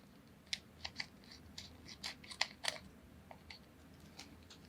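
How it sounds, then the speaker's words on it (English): Scissors snip through acetate in a quiet craft session, a string of small crisp clicks and scratchy cuts at an uneven pace, close by and fairly soft. "sometimes I can drag my scissors up and it'll take it"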